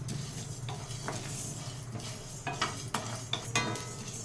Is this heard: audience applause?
no